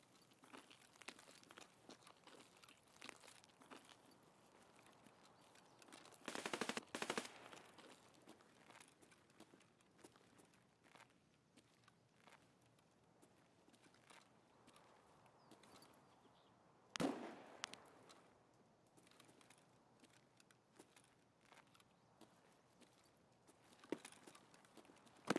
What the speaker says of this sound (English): That suppressed gun was kind of close. Sounded like a VSS or something.